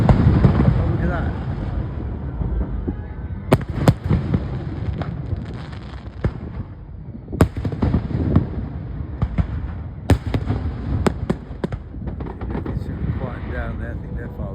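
Distant fireworks pop and crackle in scattered bursts over a steady low rumble, heard from a boat leaving Grenada for Martinique via St Lucia, with people talking nearby throughout.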